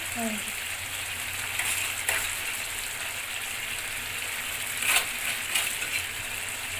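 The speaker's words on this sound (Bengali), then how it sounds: "এই যে ঘি দিলাম 1 চামচ, আর 1 চামচ চিনি দিয়ে দেবো" Sugar and a spoonful of ghee added to chicken curry with sour curd cooking in a pan, a steady loud sizzle and frying hiss with a few scraping stir sounds over it.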